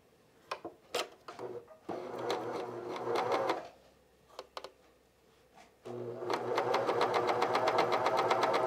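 A cover stitch machine with a binding attachment runs in two bursts, first a short stretch of stitching, a pause with a few clicks and handling knocks, then a longer steady run at close range.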